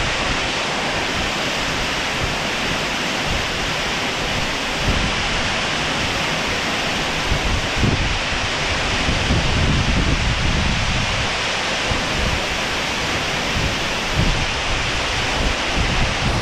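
A waterfall in the Jura hills near Saint-Claude roars continuously, a loud, dense wash of rushing, cascading water with slight surges and no pauses, heard close up.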